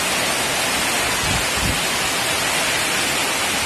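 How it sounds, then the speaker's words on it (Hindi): Heavy monsoon rain falls steadily on a rooftop, a dense, loud, continuous hiss with no breaks and no voices. "देख सकते हैं यहाँ पे कसती बारिश हो रही है।"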